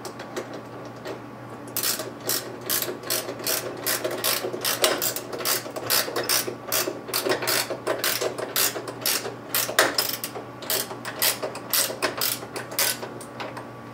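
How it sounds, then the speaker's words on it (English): A wrench tightens a hanger bolt in a busway channel with a fast, steady run of crisp ratcheting clicks that lasts over ten seconds, close and distinct, over a low electrical hum. "insert into the appropriate channel in the busway, and then tighten up using a wrench."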